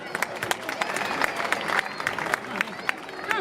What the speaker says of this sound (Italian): Un applauso per Jacopo.